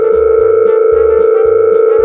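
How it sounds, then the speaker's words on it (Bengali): An outgoing phone call rings back with a loud, continuous electronic tone pulsing in a regular pattern, heard up close and alone. "রিং হচ্ছে।"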